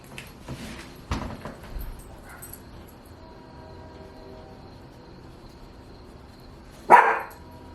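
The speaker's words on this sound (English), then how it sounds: "that's why they're barking" Dogs in a home bark in a few short bursts early on, then go quiet until one loud, close bark near the end, set off by a passing car.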